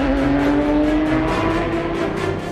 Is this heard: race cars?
yes